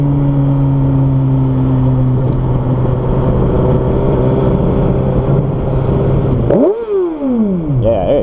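A BMW S1000RR motorcycle engine holds a loud, steady drone, then revs sharply upward and falls away near the end, as if passing close by.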